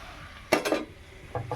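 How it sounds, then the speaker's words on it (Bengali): Curry being stirred and sautéed in a pan, with two loud scraping clatters of a utensil against the pan followed by a quieter sizzle and a few soft scrapes near the end. "ভালো করে কষিয়ে নেব।"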